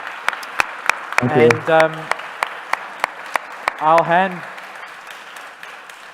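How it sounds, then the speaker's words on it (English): Applause from a conference audience after a talk on design thinking for complex systemic challenges, a steady patter of clapping running under a speaker who thanks the presenters and hands over. "Another round of applause, please"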